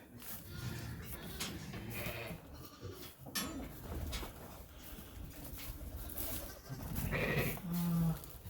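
Sheep or lambs bleating in a barn at lamb tail docking time, several calls rising over shuffling and rustling, close and fairly loud, the strongest bleats near the end.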